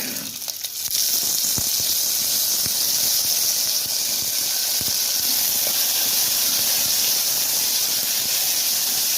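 Kidney beans hiss and sizzle as they fry in hot oil with cumin and mustard seeds. There is a sharp burst as they go into the pan, then a steady, loud sizzle throughout.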